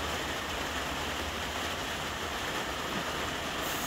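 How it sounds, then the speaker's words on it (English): Steady rain falls on a small greenhouse, a dense, even wash of noise that holds constant throughout with no voices. "Hear the sound of the rain."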